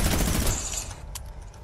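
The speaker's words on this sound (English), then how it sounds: "There's a gunshot coming from." Gunfire in Fortnite, a dense burst of rapid shots that fades quickly, followed by a single fainter crack over game ambience.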